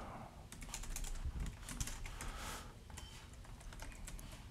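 Fast, continuous clicking of computer keys during coding work, close and fairly quiet, with irregular bursts of keystrokes over a low room hum.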